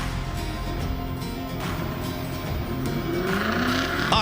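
A Nissan Silvia drift car with a powerful American engine revving in a burnout box at a drift event, its loud steady engine roar and tire noise rising toward the end, with a commentator talking over it.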